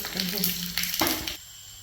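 Mustard seeds splutter in hot coconut oil while tempering for a lentil dal curry, a close, dense crackling sizzle with sharp pops that cuts off abruptly after about a second and a half.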